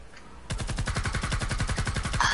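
Rapid automatic gunfire in a video game, a steady burst of closely spaced loud shots starting abruptly after a brief quiet moment and continuing without pause to the end.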